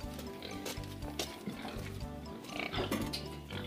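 Pigs on a farm eat snacks, with close, rhythmic chomping, snuffling and grunting in quick bursts.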